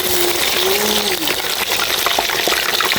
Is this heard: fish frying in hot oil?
yes